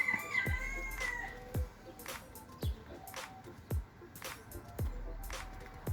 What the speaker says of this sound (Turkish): Tavuklar hepsi bir arada.